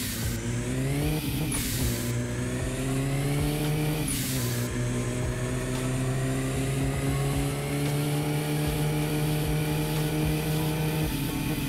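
A big-turbo car engine revs in first gear on a dynamometer, a loud sustained drone that climbs steadily in pitch, with brief whooshing bursts near the start as it pulls hard.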